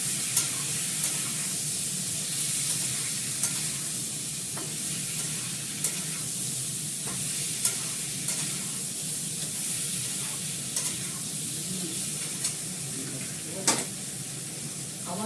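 Fenugreek seeds sizzle in hot oil with a bright, constant crackling hiss, scattered sharper pops and occasional utensil clicks over a long steady stretch, fairly close.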